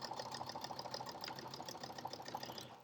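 Close by, a sewing machine stitches a fabric potholder with a steady, rapid whirring rhythm of needle strokes, running continuously and alone.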